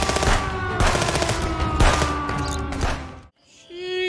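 Rapid bursts of AK rifle gunfire in a video game, dense overlapping automatic shots for about three seconds, then a short gap and a rising tonal game effect.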